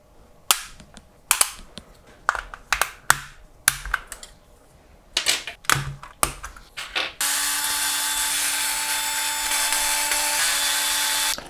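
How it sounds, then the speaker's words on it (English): Sharp clicks and short whirring bursts from a small screwdriver working on the four back screws of a PS5 DualSense Astro Bot limited edition controller, spaced irregularly, followed by a steady, louder hum. "So with the four screws removed"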